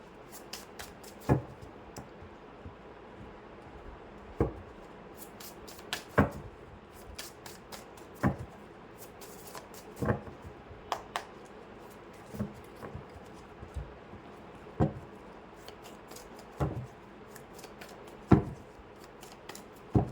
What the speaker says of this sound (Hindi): सो मैं तब तक यहाँ पर कार्ड शफल कर लूँ